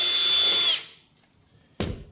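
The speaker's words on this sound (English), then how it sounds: "So take the drill bit, drill your pilot hole." A power drill bores a pilot hole with a 1/2-inch bit during a dog ladder installation, a loud high whine that cuts off abruptly, followed by silence and then a brief burst of drilling noise.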